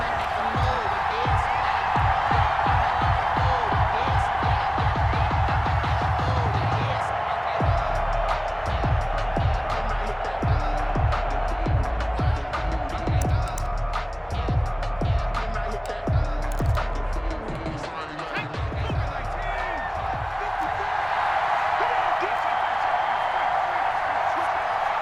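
Stadium crowd at a New York Giants versus Chicago Bears football game, a steady loud roar with scattered whoops and claps running throughout.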